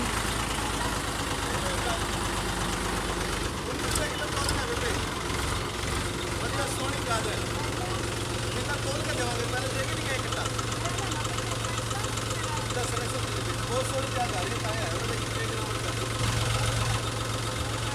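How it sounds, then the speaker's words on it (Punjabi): A tractor engine chugs steadily and loudly throughout, a low continuous rumble with faint voices talking beneath it. "ਟਰੈਕਟਰ ਦੀ ਆਵਾਜ਼ ਕਰਨ ਨਾਲ ਆਵਾਜ਼ ਨਹੀਂ ਆਉਂਦੀ ਹੋਣੀ"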